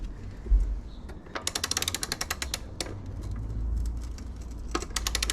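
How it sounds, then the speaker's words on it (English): Sharp mechanical clicks of a torque wrench tightening the rear axle nut of a Kawasaki Z650 motorcycle come in quick bursts against a low rumble, close and fairly quiet, with a few isolated louder clicks. "So all we're doing is tightening that rear axle nut to the factory settings, going with the torque wrench."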